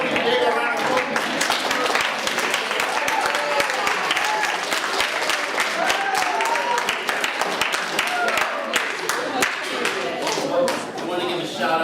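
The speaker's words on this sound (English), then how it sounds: "Big round of applause." Students at a classroom narrative publishing party clap together in a sustained burst of dense, sharp applause that holds steady throughout, with some voices mixed in.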